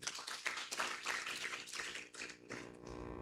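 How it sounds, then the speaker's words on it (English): A group claps together in a dense, steady burst of applause at a business summit, fading out near the end. "Let's clap for Cecilia."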